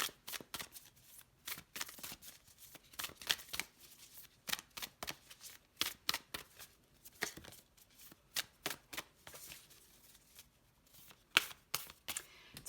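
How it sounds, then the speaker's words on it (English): Tarot cards being shuffled by hand: repeated quick riffling bursts in an irregular rhythm, close and fairly quiet, with short pauses between shuffles and no talking. "these cards have been really hard to shuffle for the most part"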